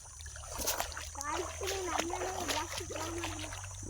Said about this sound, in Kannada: ಫುಲ್ಲು ನೀರ್ ಮೇಲೆ ನಡ್ಕೊಂಡು ಹೋಗ್ಬೇಕು. ರೋಡೆಲ್ಲ ನೀರೆಲ್ಲ ಮುಚ್ಚೋಗ್ಬಿಟ್ಟಿದೆ